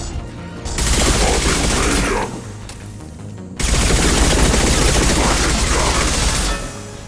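Heavy gunfire bursts in the Mass Effect 2 video game, two long loud fusillades of rapid shots each lasting about a second and a half, separated by a brief lull, with a shouted voice amid the battle.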